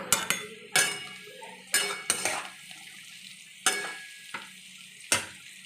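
Raisins fry and get stirred in a pan for fried rice: a soft sizzle under sharp, irregular clanks of a utensil scraping and knocking against the metal, about eight distinct hits, close and alone.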